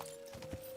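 Horse hooves clip-clopping in Kingdom Come: Deliverance II, a few soft, fairly quiet hoofbeats in a brief burst with no talking.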